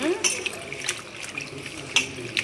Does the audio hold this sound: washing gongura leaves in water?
yes